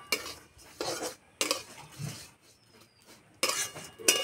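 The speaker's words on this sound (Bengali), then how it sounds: "সামাই ভাজার সময় খুব তাড়াতাড়ি রং চেঞ্জ হয়ে যায়, সেই জন্য আস্তে আস্তে জাল দেবো আর ভেজে নেব।" Dry vermicelli stirred slowly in a pan over low heat, giving bursts of scraping and clattering spoon-on-metal strokes with short pauses between them, close and fairly loud, with no talking.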